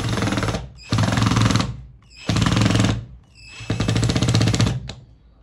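A power drill, its driver bit worn at the head, runs at a higher speed against a stripped screw that won't go in, giving three loud, harsh, rattling bursts separated by short pauses, with no talk.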